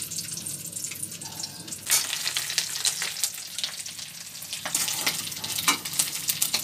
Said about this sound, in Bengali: হলুদ লবণ দিয়ে মেখে নিয়ে ডিমগুলোকে আমি ভেজে নেব